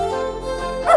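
Spunky the dog, stuck in a lake in the video game Beneath A Steel Sky, gives a short, loud, tonal whine that rises into a sharper yelp at the end.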